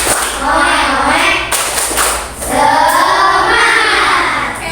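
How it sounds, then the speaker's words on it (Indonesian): A class of schoolchildren performs a rhythmic spirit clap, loud patterned claps and chanting voices from a group close by, with a brief pause midway before the clapping and shouting resume. "Tepuk semangat dulu."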